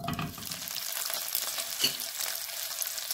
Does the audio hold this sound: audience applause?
no